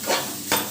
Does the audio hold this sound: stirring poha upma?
yes